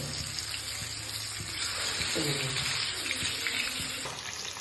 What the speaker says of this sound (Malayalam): അപ്പോൾ വെളിച്ചെണ്ണയൊക്കെ ചൂടായിട്ടുണ്ട്. നമുക്കിതിലോട്ട് നമ്മുടെ ഫിഷ് നമുക്ക് ഫ്രൈ ചെയ്യാൻ വേണ്ടി ഇട്ട് കൊടുക്കാം.